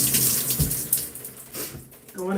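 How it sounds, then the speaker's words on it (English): A hand is rinsed under a running kitchen tap, with water splashing and hissing into a sink in short uneven bursts over a couple of seconds, close and moderately loud. "I'm gonna rinse that off my hand"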